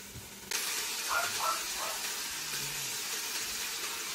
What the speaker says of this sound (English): As you can see, I'm just adding the bacon to it.